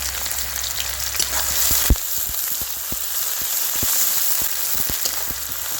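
Chopped onions hit hot oil in a pan that already holds bay leaves, chili and a little sugar, and they fry with a continuous close crackle and sizzle. Scattered sharp pops sound throughout, with no speech.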